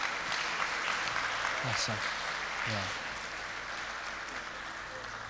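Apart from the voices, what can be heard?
audience applause, a big hand clap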